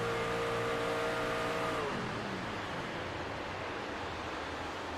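A truck engine in an online league race at Echo Park Speedway in a racing video game holds a steady droning tone, then drops in pitch near two seconds as the driver clutches and fades into broad rushing noise, with no talking.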